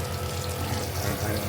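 A sink faucet runs inside a fifth wheel camper, giving a steady rushing stream of water close by with no break.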